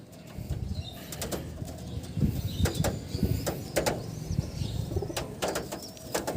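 Pigeons kept in a Howrah loft coo in a low, steady murmur, with scattered sharp wing flaps and clicks rising over it at close range; no one talks.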